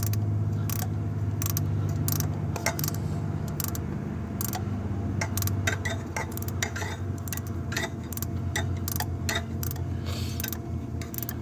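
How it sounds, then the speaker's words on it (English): A ratchet wrench snugs a bolt on the 6F35 transmission of a 2013-2016 Ford Escape 2.0L AWD. Irregular bursts of quick metallic clicking sit over a low, steady background hum. "I can get my ratchet wrench in here."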